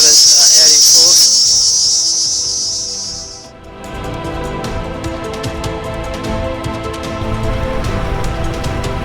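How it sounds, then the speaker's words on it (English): A loud, shrill buzzing of cicadas fades out after a few seconds, leaving rustling outdoor noise and faint ticking. "the cicadas are out in force"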